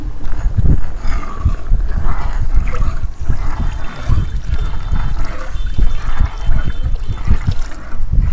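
Eight litres of warm brahmi juice poured steadily into a pot of warm ghee, a loud, continuous close-up gush and splash that lasts throughout with no pauses.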